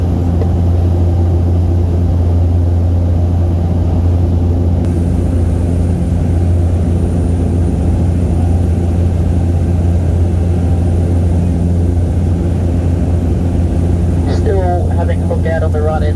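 A steady, loud droning aircraft engine hums throughout a flight over Lake Argyle near Kununurra, Western Australia. A brief higher tone appears near the end.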